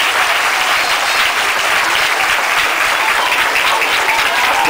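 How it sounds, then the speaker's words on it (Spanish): A large audience gives a loud, sustained round of applause for Kimberly-Clark representatives at a school-related event, dense steady clapping filling the whole stretch without pause. "les pido un fuerte aplauso para representantes de Kimberly Clark"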